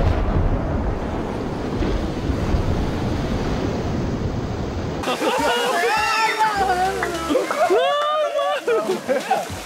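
Water in a swimming hole churns and splashes in a loud, rushing wash of broadband noise for several seconds, then cuts off as excited voices take over and shout.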